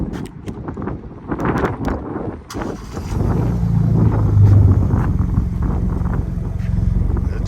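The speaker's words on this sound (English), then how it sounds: "All right, let's do the remote start." A 2021–2022 Ford Bronco with an aftermarket catback exhaust starts by remote after some handling noises, then settles into a deep, steady exhaust rumble that stays loud and close.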